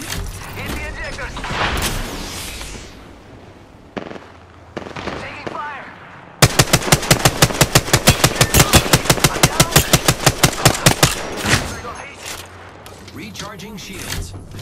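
Rapid automatic gunfire rattles in Apex Legends, a long, evenly spaced burst of loud shots taking up the middle of the stretch, with other game sounds and a voice talking before and after.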